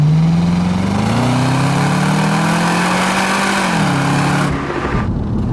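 Supercharged V8 of a 2009 Cadillac CTS-V revs loudly and close, pitch climbing and holding in a sustained roar before dropping off and cutting away near the end, with no voices.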